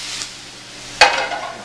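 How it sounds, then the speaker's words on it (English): Chicken sizzles in a pan, a soft steady frying hiss broken by a sharp stir or scrape near the middle. "our chicken's getting a nice golden brown"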